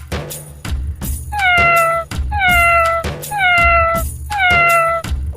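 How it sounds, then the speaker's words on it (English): A cat meows four times in a row, each call clear, loud and close, with short pauses between them and no talking over it. "It's a cat."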